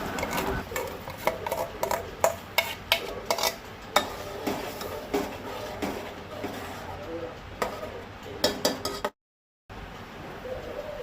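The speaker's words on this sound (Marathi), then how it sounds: "आता वाटल्या ती ग्रेव्ही घालता." Ground gravy added to melted butter in a pan for butter chicken and stirred, with repeated spoon scrapes and clinks against the pan over a sizzling background and a short silent gap near the end.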